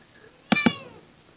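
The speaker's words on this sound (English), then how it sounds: "I have a black cat" A black cat gives two quick, close meows in rapid succession, heard clearly against a quiet background with no talk.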